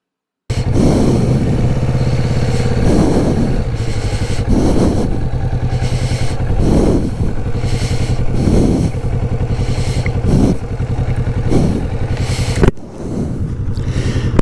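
A 2020 Kawasaki Vulcan S motorcycle being ridden, its engine droning loudly and steadily with wind rush and periodic swells as the rider shifts and accelerates along the road.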